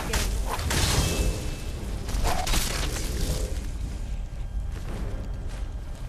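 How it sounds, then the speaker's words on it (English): Skyrim fire breath shout, a heavy rushing roar of flame with booming low rumble that surges, sustains for several seconds, then gradually thins out, with a voice faintly underneath. "I even breathe fire like a dragon"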